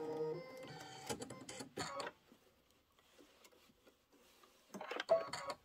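Kimberbell embroidery machine stitching a satin trim outline for a bee quilt block: quick mechanical needle chatter in bursts, loud at the start, fading to near quiet in the middle, then resuming near the end.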